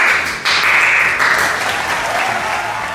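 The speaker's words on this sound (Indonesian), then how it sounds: "Mana tepuk tangan kalian semua." Crowd at a PS5 grand launching event claps loudly for a live band, a thick, continuous wash of applause with a brief dip near the start, no voices over it.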